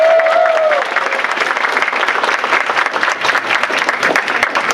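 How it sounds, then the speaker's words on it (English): Audience applause fills a convention panel hall for Drake at a Power Rangers In Space panel, a steady dense wash of many hands clapping, loud and sustained throughout. "Everybody give Drake a round of applause"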